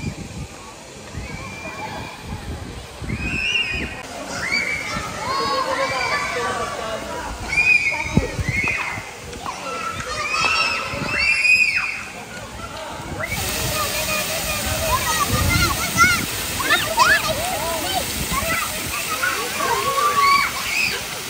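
A dancing water fountain at a riverside park esplanade splashes and sloshes steadily, with wind on the microphone and someone talking over it throughout.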